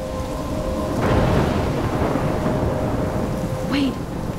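Heavy thunderstorm in the game Life is Strange, with steady pouring rain and a rolling thunder swell, loud and close, alone without speech.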